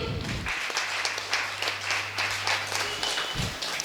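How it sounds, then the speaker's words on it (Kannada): An audience at an abacus championship award event applauds the winning children, a dense, continuous patter of many hands clapping at moderate volume, with some faint voices underneath. "ಒಂದು ದೊಡ್ಡ ಚಪ್ಪಾಳೆ ಕೊಡಿ"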